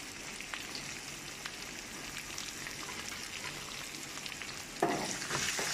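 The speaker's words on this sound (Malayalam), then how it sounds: "എണ്ണ ചൂടായിട്ട് കടുകിട്ട് വേപ്പിൻ്റെ ഇല ഇട്ട് അതിനുശേഷം ഉള്ളി കിഴങ്ങ് പച്ചമുളക്" Mustard seeds, curry leaves, onion, potato and green chilli fry in hot oil with a faint, continuous crackling sizzle that grows louder and denser near the end.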